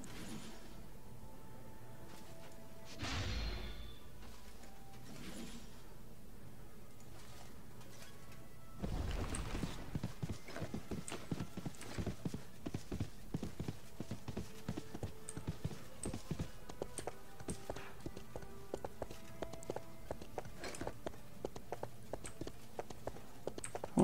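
Horse hooves clip-clop steadily in the fantasy video game RIFT, a continuous rhythmic trot of many quick hoof strikes that grows louder and denser partway through, with other game ambience behind it and no talking.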